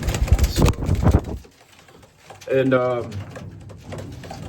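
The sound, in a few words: racing pigeons cooing in the loft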